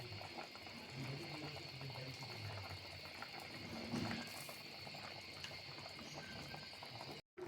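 A jatka fish curry with eggplant, potato and tomato simmers in a pan, giving off a faint, continuous bubbling hiss with a few soft clinks, then a sudden brief cutoff near the end.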